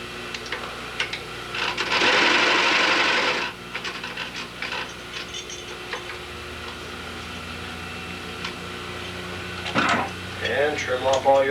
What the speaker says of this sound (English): I usually run a lock on my last stitch.